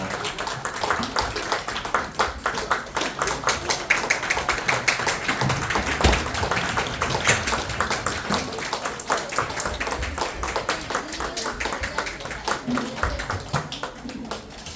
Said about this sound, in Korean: 끝까지 한번 큰 박수로 함께 격려하며